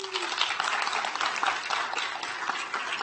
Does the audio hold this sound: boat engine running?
no